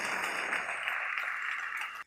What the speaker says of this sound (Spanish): Denle ese aplauso al Rey.